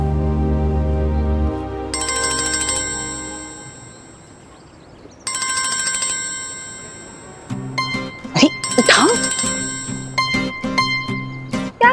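A phone ringtone on a rooftop plays loud and melodic in repeated bursts, stopping and starting again as calls keep coming, with a brief gap between rings and some background noise.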